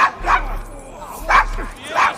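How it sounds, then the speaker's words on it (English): Dog barking in the video game Assassin's Creed Syndicate, set in a rough London district: three sharp, clipped barks spaced about a second apart, close and distinct, with a low steady background hum. "Oh, he's barking."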